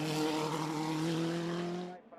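A Nova NP01 race car drives past at racing speed, its steady, loud engine drone holding a sustained pitch for about two seconds before cutting off abruptly.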